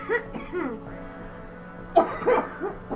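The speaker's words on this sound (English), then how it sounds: "You are allowed to cough." A single short cough near the start, then a burst of laughter-like coughing a moment later, close and moderately loud in a quiet room.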